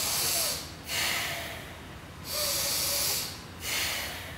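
Three forceful nasal exhalations come in a steady rhythm during a yoga breathing exercise, each a loud, close hissing rush with short quiet gaps between them.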